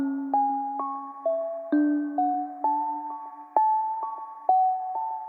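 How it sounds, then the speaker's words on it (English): A synth bell patch runs through an arpeggiator, plinking single notes up and down in a quick, even rhythm over a sustained low bell tone, clear and upfront. "So right here, I have a bell with an ARP on it."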